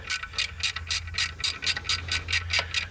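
Rapid ratchet clicks in steady bursts, close and fairly loud, as heat shield bolts on a B58 Gen1 turbo manifold are broken loose, with a low hum underneath and no talking.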